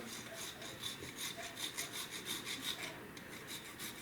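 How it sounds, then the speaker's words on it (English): A whole nutmeg is scraped across a grater for a sweet potato corn chowder, giving a steady run of soft rasping strokes, close and moderately quiet, alone with no talk. "just a few scrapes of nutmeg, very Few scrapes of the old nutmeg"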